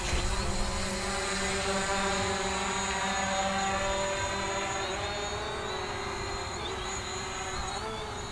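A Hubsan Zino quadcopter drone flies back toward the operator outdoors, its high, steady propeller whine holding constant with slight pitch shifts at moderate distance.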